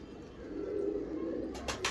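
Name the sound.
pigeon cooing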